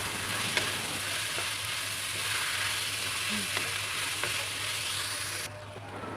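Boiled potatoes and vegetables frying on a tawa for pulao, a steady close hiss of sizzling oil with occasional scraping stirs, no talking.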